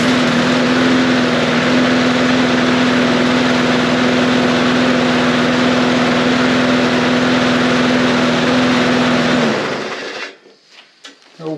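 A Briggs and Stratton engine on a Yard Machines 20-inch push mower with a newly replaced carburetor runs with a loud, steady, buzzing drone for about nine seconds, then cuts off and winds down to near silence.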